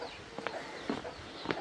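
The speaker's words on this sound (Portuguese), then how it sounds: "E essa que eu vou chocar agora é uma galinha pequena." A small hen on a Brazilian smallholding gives a few soft, brief clucks, fairly faint and close, with low farmyard background noise.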